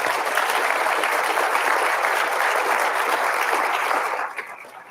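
An audience applauds panelists at a community forum on fighting fentanyl, dense sustained clapping for about four seconds before it fades out.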